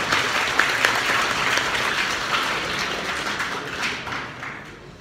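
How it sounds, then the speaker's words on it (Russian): Audience applause at a talk, many hands clapping in a continuous, fairly dense patter at moderate volume, easing off slightly toward the end. "Аплодисменты"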